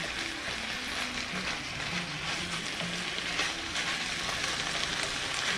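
Ground meat sizzles steadily in a pan as it is broken apart for a loaded shepherd's pie, a dense, continuous frying hiss with faint scraping underneath and no talking.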